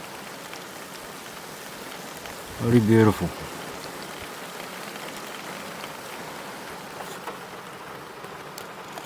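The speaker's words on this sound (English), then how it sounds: "You do gotta love the sound of rain in the bush," Steady rain falls in the bush as a soft, continuous patter on foliage and ground, with a voice briefly speaking over it near the start.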